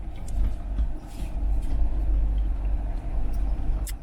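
A 2005 Lexus GX 470 crawls along an eroded off-road trail, its engine and tires making a steady low rumble with occasional bumps and rattles from inside the cabin.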